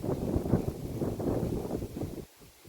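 Wind blows outdoors, a steady low rushing buffet against the microphone that drops off near the end, with no talk.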